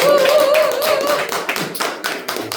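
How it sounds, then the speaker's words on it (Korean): Congregation at a Sunday church worship service applauding together, a dense, steady wash of many hands clapping close and loud, with a held musical tone underneath early on and the applause thinning slightly toward the end. "다시 하나님께 영광의 박수."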